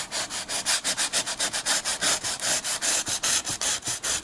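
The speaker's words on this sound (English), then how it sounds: "we're just going to lightly sand around the edges of where we put in the wood filler" Sandpaper rubbed by hand over wood filler on a bamboo carving, a close, rhythmic series of quick back-and-forth scratching strokes, about five per second, with no talking.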